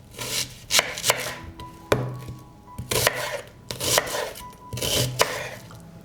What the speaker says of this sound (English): I will cut an onion into larger pieces.